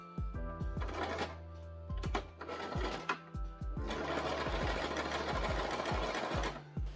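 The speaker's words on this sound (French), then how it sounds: "je vais les coudre endroit contre endroit aux 2 extrémités" A sewing machine runs in bursts of rapid stitching, sewing fabric pieces right sides together at both ends to form a tube for a Halloween top, with short pauses between runs and a long steady run near the end.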